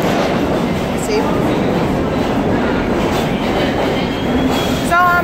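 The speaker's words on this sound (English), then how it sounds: "That's not my train. That is the D train." A New York MTA D subway train rumbles through a station, with a steady loud roar of wheels on rails, some clatter and a brief high squeal near the end.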